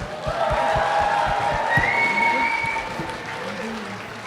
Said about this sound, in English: another round of applause for this wonderful luau